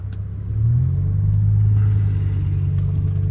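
Deep, steady engine rumble from a BMW E60 M5 driving through a tunnel, swelling in level after half a second and holding a strong low drone with reverberant road noise throughout.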